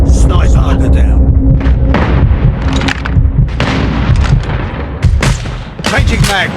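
Sniper gunfire in Call of Duty Mobile during a multiplayer clan war, several sharp, loud shots spaced across the stretch amid dense, busy game sound.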